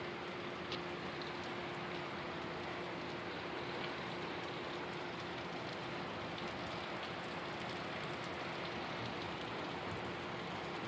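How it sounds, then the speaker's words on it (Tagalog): Steady rain pours down continuously, a dense even hiss throughout with a faint low hum beneath and no talking. "pakita ko sa inyo yung ulan"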